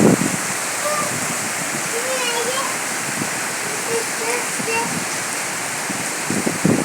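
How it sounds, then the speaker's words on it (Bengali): Heavy rain pours down in a steady, dense roar that fills the whole clip, with a faint voice briefly audible beneath it. "অনেক অনেক বৃষ্টি হচ্ছে"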